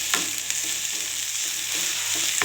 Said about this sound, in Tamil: இதையும் நல்லா வதக்கி விட்ருவோம்